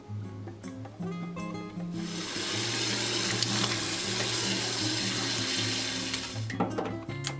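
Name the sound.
washing chili peppers under running tap water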